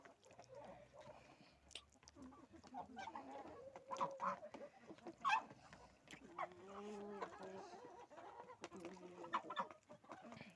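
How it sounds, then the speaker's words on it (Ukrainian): Backyard chickens on a small farm cluck softly and repeatedly, with scattered short calls and occasional louder squawks, close by and fairly quiet. "Ось такі в мене курушечки"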